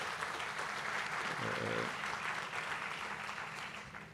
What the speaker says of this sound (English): I think a big round of applause to the Minister for that.